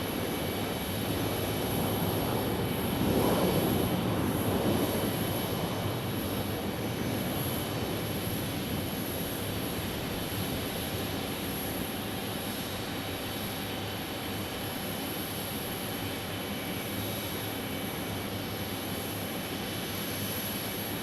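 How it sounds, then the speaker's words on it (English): British Airways Boeing 777 jet arriving at Phoenix Sky Harbor, a sustained loud engine roar with a high whine above it, strongest near the start and then easing slightly, with no speech. "British Airways 545 arrival."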